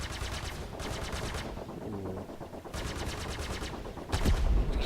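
Automatic weapon fire in the Star Citizen video game during a co-op battle against a Vanduul swarm, with repeated rapid bursts of gunfire separated by short pauses and a heavier impact near the end.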